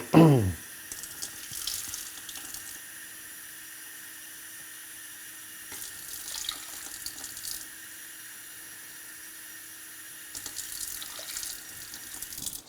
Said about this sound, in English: take out 3 deciliters of water